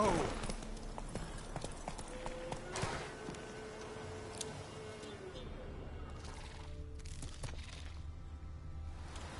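Horse hooves clip-clop at a steady walking pace in The Witcher 3, with a sharp crack early on and a rider's voice spurring the horse on.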